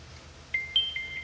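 A Samsung Galaxy phone plays short electronic notification chimes, three or four bright tones in quick succession over quiet background hum.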